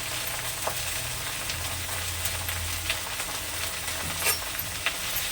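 Jute leaves sizzle and fry steadily in a pan over a low-to-medium gas flame, a continuous close hiss with a few faint clicks of stirring and no voices.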